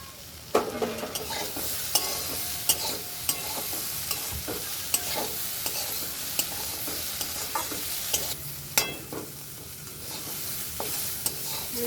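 Food sizzles steadily in a hot pan while a utensil stirs and scrapes at regular intervals.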